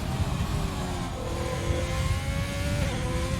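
A race car in a racing video game powers out of the final corner, Parabolica at the Italian circuit, its engine note steady and loud, climbing through the revs with a pitch sweep near the end.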